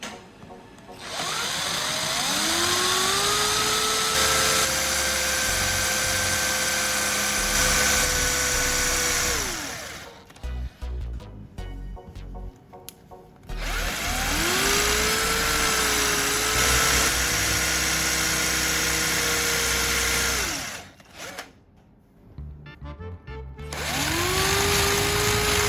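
A power drill bores holes into a wooden stick handle in two long runs, its loud steady whine dropping in pitch as it bites into the wood, separated by brief pauses and scraping handling noises.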